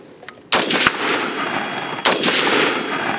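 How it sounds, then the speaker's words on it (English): A rifle fired from the prone position by a shooter wearing a plate carrier and body armor, two sharp loud shots about a second and a half apart, each followed by a ringing decay. "So go ahead and fire a couple rounds."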